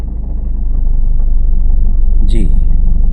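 Car engine idling then pulling away as a learner driver moves off, a loud steady low rumble close in the cabin, with a brief high squeak near the end and people talking.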